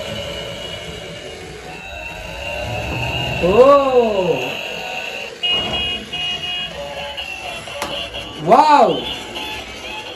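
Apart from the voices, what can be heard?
Spider-Man toy car switched on, lights and music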